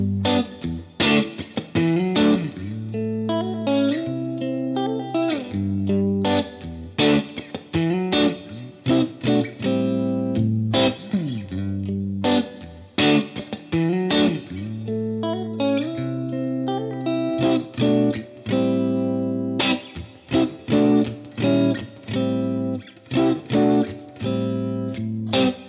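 An electric guitar plays chords and riffs through an amp modeler pedal, with a crunchy distortion and shimmering chorus, loud and close with short pauses.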